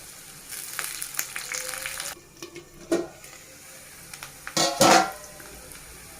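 Curry leaves dropped into hot oil for Andhra-style chama gadda pulusu crackle and sizzle loudly, with bursts of spitting that come and go, a quieter stretch in between and a final sharp flare near the end.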